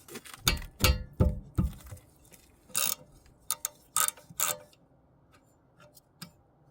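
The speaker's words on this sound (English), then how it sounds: "Now we can use a 12 millimeter socket and remove these two caliper bolts" A 12 mm socket ratchet loosening rear brake caliper bolts on a Honda CR-V, heard as close bursts of ratcheting clicks and metallic taps with pauses between strokes, no talking.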